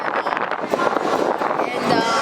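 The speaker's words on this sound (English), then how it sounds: "It's windy." Wind gusts across an open ship deck on a cold, overcast day, a close, steady rushing buffet against the microphone with people talking over it throughout.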